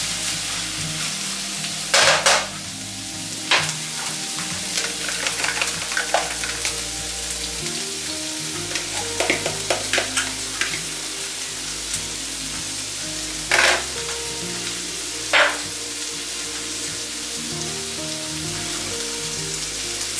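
Eggs scrambling in a pan for a jarred sausage breakfast, a steady sizzle and frying hiss with occasional sharp scraping stir strokes, close and fairly loud, no talk.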